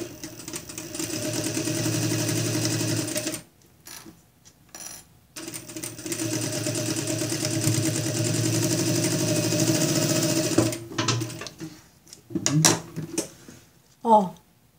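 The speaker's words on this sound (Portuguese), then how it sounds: "E a gente vai fazer uma costurinha aqui também na beiradinha para segurar esse viés." A sewing machine stitches bias binding onto a fabric vaccination card cover, whirring steadily in two long runs with a short pause between, then a few brief clicks and handling sounds at the end.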